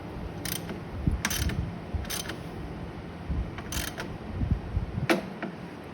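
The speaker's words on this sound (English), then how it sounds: "Once your motor mounts are tight, you can tighten the swing arm nut." Ratchet wrench tightening the swing arm nut on a motorcycle being converted to electric, several short bursts of rapid clicking separated by pauses, close and clear with no talking.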